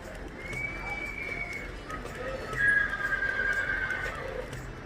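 A horse whinnies in two drawn-out neighs at a horse show in Anthiyur, with soft hoof clops and low background noise beneath.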